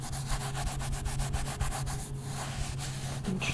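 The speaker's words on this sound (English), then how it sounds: "as you rub the finger against that, you hear the velvet going back and forth like that" Soft, steady rubbing of a finger back and forth across velvet, a quiet brushing texture repeating in a close, even rhythm.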